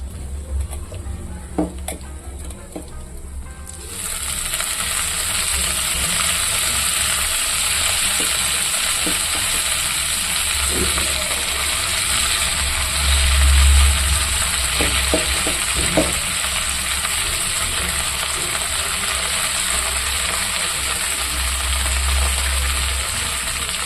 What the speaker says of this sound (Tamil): புதினா, கொத்தமல்லி, கருவேப்பிலை 3மே நான் கழுவி வச்சுருக்கேன், போட்டுக்கலாம்.